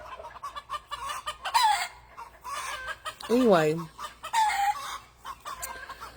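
A black Australorp chicken clucks and gives a rising, warbling call outdoors on a farm, close and clear amid other hens and a faint background of birds; a person speaks briefly.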